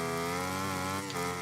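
A Yamaha racing motorcycle engine in the MotoGP 17 video game, held in a high gear, drones in a steady, buzzy, harmonic tone that barely changes pitch.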